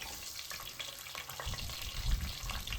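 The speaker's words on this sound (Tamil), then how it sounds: "சீரகம் கடுகு நல்லா பொரியட்டும்" Mustard seeds and cumin splutter in hot oil, a soft continuous sizzle with scattered small pops building slightly toward the end, close and faint with no talking.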